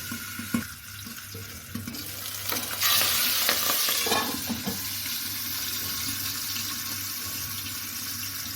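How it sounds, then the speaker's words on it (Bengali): Boal fish sizzling in hot oil, a steady crackling hiss with a few utensil clatters early on, no voices. "তেলটা ভালোভাবে গরম হয়ে গেছে এখন আমি মাছ ছেড়ে দেব"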